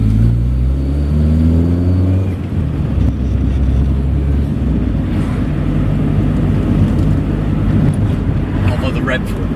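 Triumph Acclaim L with a rev-happy small engine pulls along the road, its harmonic drone rising and falling through the gears as the revs climb, a steady close-miked rumble inside the car while someone talks over it.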